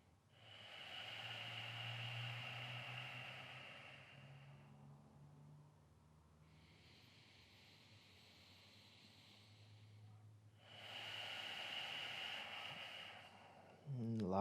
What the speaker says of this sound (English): just take 3 more of your own breaths